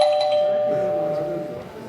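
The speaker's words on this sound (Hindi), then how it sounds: "एक बार घंटी बजाने से तुम्हारा काम नहीं चलता, 2 बार बजाना जरूरी है" A home doorbell chimes with a sustained ringing tone that slowly fades, with faint voices in the background.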